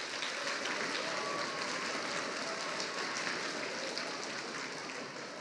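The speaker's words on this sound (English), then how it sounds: "Could I get another round of applause for everything that you've done?" Applause from a gathered audience celebrating participants' accomplishments, a dense, even wash of clapping that holds steady throughout at a fairly faint, distant level.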